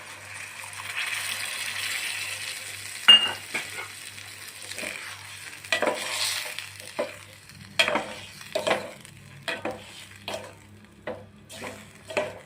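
Tamarind juice poured into a pan of simmering Andhra-style egg curry, a brief liquid splash followed by soft sizzling, bubbling and scattered stirring and pan clinks.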